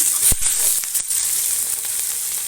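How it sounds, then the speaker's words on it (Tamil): Tomatoes dropped into a pan to sauté for paneer butter masala sizzle steadily at close range, with a couple of sharp taps and stirs near the start and no talking. "தக்காளியை போட்டுக்கிறேன் தக்காளி நல்லா வதங்கட்டும்"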